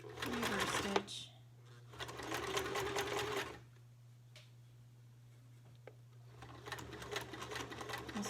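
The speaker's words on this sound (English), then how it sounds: "sew, reverse stitch." Sewing machine running in bursts while reverse stitching a fabric face mask, its motor whirring in two steady runs with a pause between, a constant low hum underneath and a few light clicks.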